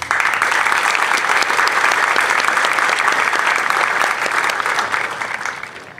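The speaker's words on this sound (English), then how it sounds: "I applaud you." Audience applause at an Air Force basic military training parade, dense sustained clapping from a large outdoor crowd, loud and even for several seconds before tapering slightly at the end.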